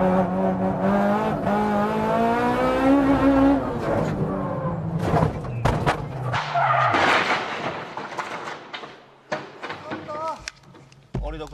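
Race car driving in a Nissan R34 Skyline, with engine roar and tire squeal rising and falling over about eleven seconds, loud and close, with sharp skidding bursts near the end; a voice talks over the first half.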